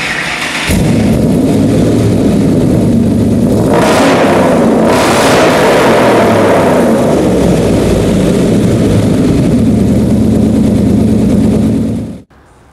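A 2006 Ford Mustang Cervini Eleanor with side exhaust idles loudly with a deep, throaty rumble, revving up a couple of times before settling back, running steadily until it cuts off at the end.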